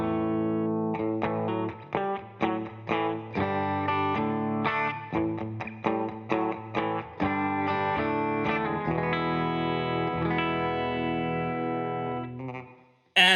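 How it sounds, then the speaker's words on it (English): An electric guitar through a Line 6 HX Stomp XL with compressor and EQ plays a choppy, distorted riff, then a long ringing chord that fades away, bathed in a smooth, spacious plate reverb. "some plate reverb,"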